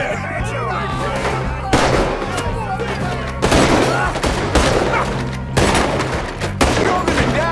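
Gunfire in Red Dead Redemption 2 comes in loud bursts, four or five sharp volleys of shots under shouting voices amid the chaos of a shootout.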